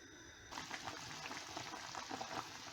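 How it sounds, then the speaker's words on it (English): A pot of pork stew with potatoes boiling vigorously, with a steady bubbling roar and frequent small pops, close by and fairly loud, starting abruptly after a quieter first half-second. "it's really boiling, and it's soft"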